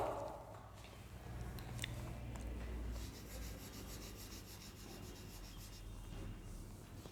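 An eraser rubs out pencil writing on paper, producing a faint, continuous scratchy rubbing close by with slight rhythmic strokes.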